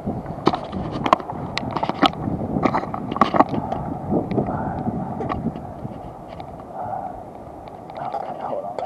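Strong wind blows outdoors and buffets the microphone with a steady, gusty roar and low rumble. Brief louder gusts come through for the whole stretch.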